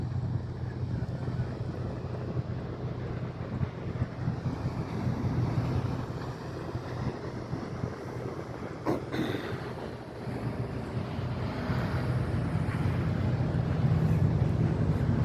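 A tiny boat cruises slowly along the Cumberland River on a sunny day with a light breeze, giving a steady low engine drone and water wash mixed with buffeting wind on the microphone throughout.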